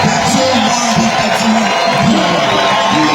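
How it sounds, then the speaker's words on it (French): Congregation cheering and shouting acclamations at a church fiftieth-anniversary jubilee service, a loud, continuous crowd roar with voices rising and falling throughout. "de nous louer par de cris et des acclamations pour cette œuvre"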